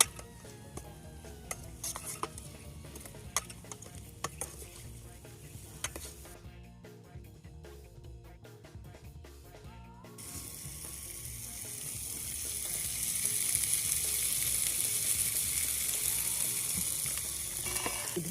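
Raw chicken frying in a pot for biryani, cooked outdoors at a riverside camp: a soft crackling sizzle with scattered clinks that swells into a louder, steady hiss as it heats.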